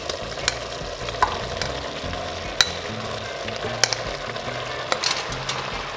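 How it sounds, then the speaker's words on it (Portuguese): Meat and mushrooms (míscaros) sizzle steadily in a frying pan, with occasional sharp clicks of stirring against the pan; no voices. "a carne já apanhou assim um bocadinho de cor, já esteve aqui a fritar uns 2 minutinhos"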